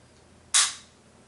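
A single sharp metallic click from the trigger of a Savage Mk2 rifle dry-fired during a function check, close and crisp, standing alone against near silence.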